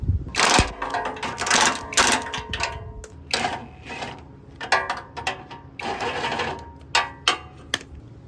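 Nuts are tightened onto the hood brackets of a Kohler Courage engine, giving close, irregular bursts of ratcheting and metallic clicking with short pauses between them.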